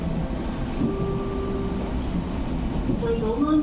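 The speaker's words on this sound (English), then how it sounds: "A 9-car train to Hong Kong is arriving." An MTR East Rail metro train in Hong Kong rumbles steadily with rising and falling wheel squeals as it pulls into the station, while an announcement voice plays faintly over the noise.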